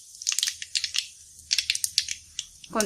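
Cumin seeds drop into hot oil where mustard seeds are already spluttering, giving a quick run of close, sharp crackles and pops in irregular bursts with brief pauses between them.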